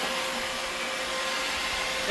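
A carpet extraction machine runs during a low-moisture cleaning job, giving a steady, loud broadband whoosh and motor hum that holds evenly throughout without pauses or talk.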